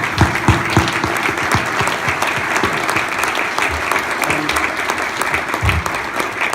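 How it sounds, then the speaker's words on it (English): A room applauds the speaker's wife Terry at an alumni award celebration, steady dense clapping from a sizable audience that carries on loudly for several seconds with some voices mixed in. "my wife here, Terry, who I'd like to stand up and give a round of applause to"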